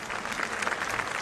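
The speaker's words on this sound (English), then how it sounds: "the crowd applauded" A large crowd at the outdoor funeral Mass for Pope Francis breaks into applause, a dense continuous clapping that sounds broad and distant.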